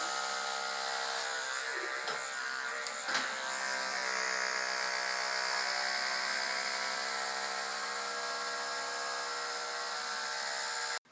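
Electric hair clipper buzzing steadily at close range with a constant motor hum, a couple of brief changes in pitch as it moves through hair.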